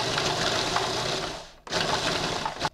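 A food processor pulses a truffle mixture into crumbs with a loud, close, grinding whir. It runs in two bursts split by a short gap, and the second burst cuts off abruptly.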